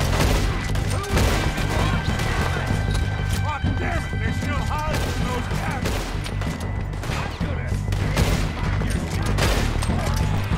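Rifle gunfire during a train robbery in Red Dead Redemption 2: loud, rapid, repeated shots in a steady barrage, with a voice talking over the shooting.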